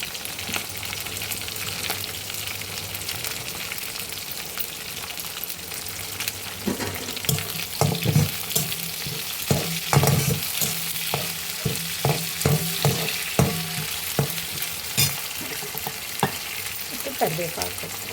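Garlic and green chillies fry steadily in a hot pan for a spinach dal tempering, with a constant bright sizzle and repeated scraping taps of a spoon stirring.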